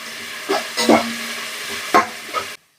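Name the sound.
onions and fenugreek leaves frying in oil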